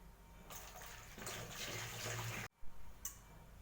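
Water runs and splashes for a couple of seconds into an oil kettle being cleaned, then stops abruptly, followed by a small clink and a brief trickle.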